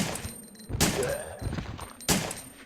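Pistol shots fired at a group of zombies in the video game Resident Evil 3, a few sharp bursts spaced apart over a dense, busy game backdrop.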